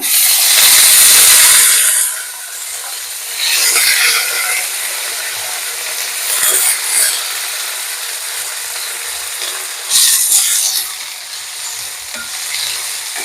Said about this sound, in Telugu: ఇప్పుడు ఇందులో వంకాయలు వేస్తున్నాను